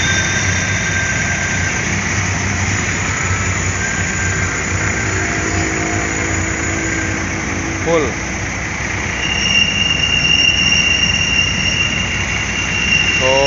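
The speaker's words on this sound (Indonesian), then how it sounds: "mesin masih halus suaranya" A PMTOH bus engine idles smoothly with a steady, loud hum and rattle. A brief squeal rises over it partway through, and a voice speaks a single word.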